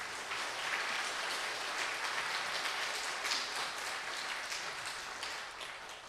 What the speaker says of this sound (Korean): 나오실 때 환영으로 박수하겠습니다